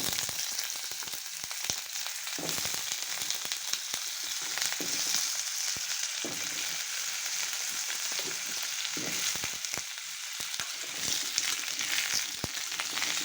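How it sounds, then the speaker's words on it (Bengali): Cut potatoes frying in oil in a wok for beef biryani, a continuous moderate sizzle close by with occasional clicks and light stirring. "এখন আলুটা আমি ভেজে নেব তেলে।"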